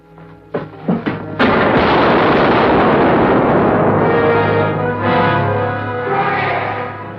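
A stick of dynamite blows up in a 1950 Rocky Allan Lane western, a couple of sharp thuds giving way to a huge roaring blast that rumbles on loudly and slowly fades.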